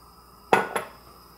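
Pasta water goes into a pan of noodles being tossed, giving two quick metallic clatters of pan and utensil close by, the first louder, in an otherwise quiet kitchen.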